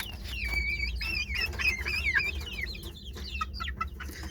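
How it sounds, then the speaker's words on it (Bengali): Several chickens squabble over a feather, their clucks and squawks coming in busy overlapping bursts close by, with a steady low rumble underneath. "আমার মুরগিগুলো একটা পালক নিয়ে খুব পারাপারি করতেছে"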